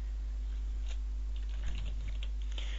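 Quick, light keystrokes of typing on a computer keyboard, scattered and irregular, faint and close against a steady low hum, with no one speaking.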